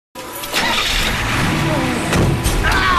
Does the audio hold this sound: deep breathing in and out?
no